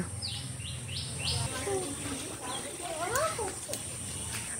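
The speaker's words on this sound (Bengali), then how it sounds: "একটা টুনটুনি পাখি" A tailorbird calls from a mango tree in several short, high chirps and quick rising notes, moderately near, with people talking nearby.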